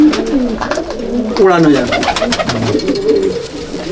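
Desi pigeons coo in a home pigeon loft in Durgapur, South 24 Parganas, a close, continuous, throaty burbling that runs under a voice talking throughout.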